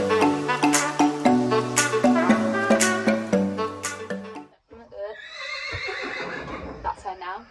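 A horse at a barn lets out a long, wavering whinny, loud and close, after several seconds of plucked music with no other sounds.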